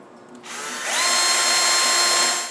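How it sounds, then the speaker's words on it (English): Power drill boring a hole for drawer rails in a wooden water cabinet, heard up close: the motor starts, rises to a steady high whine that holds for about two seconds, then spins down, with no talking. "on my weird drawer, I need to drill another hole"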